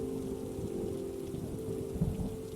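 Steady rain falling, a continuous dense hiss with a low rumbling undertone that swells slightly near the end, heard alone.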